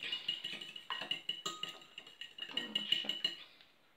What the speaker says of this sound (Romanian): Și o să-l amestecăm așa puțin